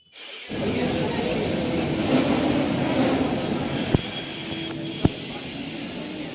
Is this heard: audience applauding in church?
no